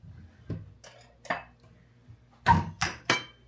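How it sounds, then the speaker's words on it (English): Dishes clink and knock as a bowl is taken out in a home kitchen, about five sharp clattering hits spaced over a few seconds, with a tight cluster of louder clinks near the end. "Oh, let me get a bowl."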